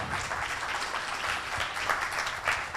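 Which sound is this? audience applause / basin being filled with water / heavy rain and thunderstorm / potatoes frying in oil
audience applause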